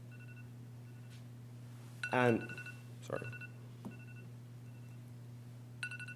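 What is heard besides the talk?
phone alarm ringing during a lecture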